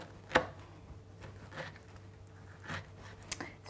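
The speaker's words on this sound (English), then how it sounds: "Just going to trim off the excess, and then just want to chop it up." Pineapple is chopped with a knife in a few sparse, separate cuts, a sharp chop near the start followed by softer thuds on the board, fairly quiet and with no speech.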